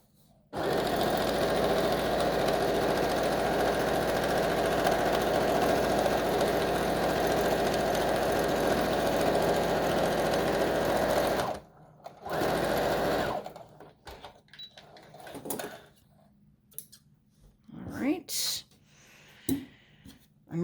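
A sewing machine stitches the seam of a cloth COVID-19 face mask, running as a loud, steady, close whir for about eleven seconds before stopping, followed by scattered faint handling clicks and rustles.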